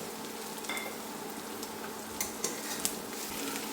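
Onions fried to a reddish brown, with four chopped green chillies, sizzle steadily in a pan for a prawn bhuna, with a few light stirring clicks and no talking.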